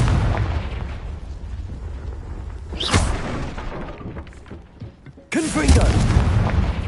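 Confringo fire spell blasts in Hogwarts Legacy, a loud booming explosion bursting out around the three-second mark and another heavy blast near the end, over rumbling game ambience.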